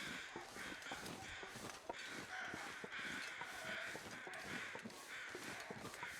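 Crows in the survival video game The Long Dark, a flock cawing repeatedly over a constant faint wind-like ambience, harsh calls overlapping at moderate distance with no talking.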